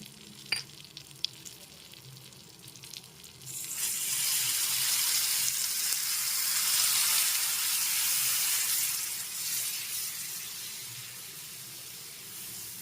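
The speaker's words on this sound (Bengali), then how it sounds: "মশলাটা দিয়ে অল্প একটু জল মিশিয়ে নেড়ে চেড়ে নিতে হবে" Spices sizzle loudly in a pan after a splash of water, a steady bright frying hiss swelling from a quieter start with faint stirring clinks, for a Bengali rui fish curry with raw mango and mustard paste.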